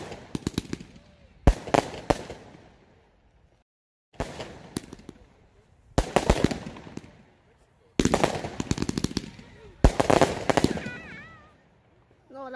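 A KBX Insane 40-shot fireworks cake fires in loud bursts of rapid crackling pops in several volleys separated by short pauses, with a faint whistling tail near the end.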